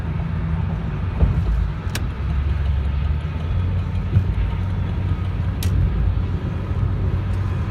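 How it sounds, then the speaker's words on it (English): A car passes on a road at night, its steady rumbling engine and tire noise filling the background, seemingly heard from inside another moving vehicle. "there goes a vehicle passing me with no taillights"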